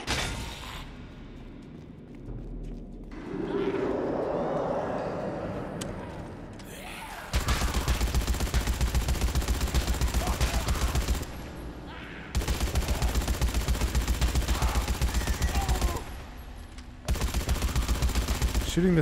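Steady automatic gunfire from a gun in Dead Rising 4 roars in long continuous bursts separated by short pauses, loud and close, with someone talking quietly during the quieter opening stretch.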